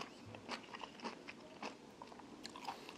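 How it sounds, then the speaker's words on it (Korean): Crisp crunchy bites into raw bamboo shoot served at a hotel Chinese restaurant, several sharp crackling chews spaced irregularly, close and fairly quiet with no talking. "생죽순부터 먹어봤습니다."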